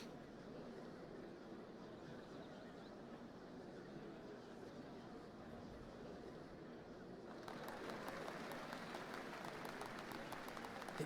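A crowd applauds at a ceremony for the changing of the Dawn Servants in Final Fantasy XIV, a steady faint wash of clapping that swells louder partway through.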